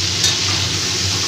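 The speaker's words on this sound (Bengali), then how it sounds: "একদম হালকা করে আমি ভেজে নিচ্ছি" Hilsa fish fries lightly in hot oil in a home kitchen, giving a steady close hiss and sizzle with a faint clink of utensils as it is stirred.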